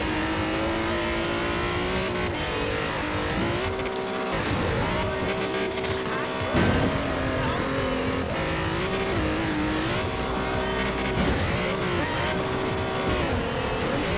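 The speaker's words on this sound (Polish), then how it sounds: "Jedziemy tam golfiną." A Volkswagen Golf drives in Forza Horizon 4, its engine loud and close, revving up and down through gear changes with occasional tire noise, while a voice talks over it.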